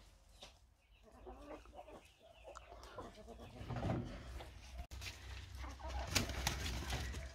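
Hens and chicks in a rural yard, faint clucking and peeping close by with some rustling, quiet overall and growing slightly busier toward the end.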